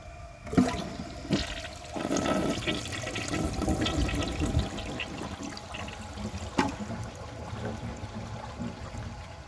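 A 1993 Kilgore Aladdin toilet flushes a dish towel with a loud rushing swirl of water that surges, churns steadily for several seconds, then gurgles and trickles as the bowl drains and refills.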